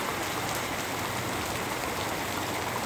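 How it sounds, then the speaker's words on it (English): Heavy rain with big raindrops pours down steadily, a dense, loud, even hiss of drops striking surfaces without pause and with no voices. "Those are fucking big ass raindrops, yo."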